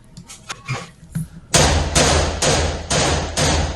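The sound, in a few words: rifle shot with muzzle booster removed, fireball explosion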